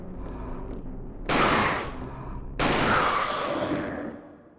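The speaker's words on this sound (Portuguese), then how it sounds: "O revólver tem que dar um monte de tiro." Revolver gunshots in the survival horror game Alone in the Dark: The New Nightmare, two loud, sharp shots with long ringing tails over a low, steady background.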